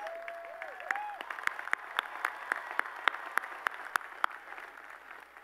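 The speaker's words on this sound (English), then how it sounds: "Another big round of applause" Sparse, scattered clapping at a university commencement ceremony, individual claps ringing out distinctly over a quiet, reverberant hall, with faint tonal sounds early on.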